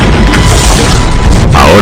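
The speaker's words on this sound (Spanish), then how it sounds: "Ahora la artillería alemana pone en marcha una lluvia de balas sobre las posiciones de la primera fuerza." German artillery bombardment in the Second World War, a dense, loud rumble of booming blasts and crashing impacts rolling together without pause, with no clear gaps between the shots.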